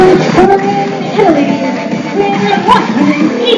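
Wrestler's entrance music for Alessandro Del Bruno plays loudly in an arena, a melodic theme mixed with crowd noise and announcer talk over it.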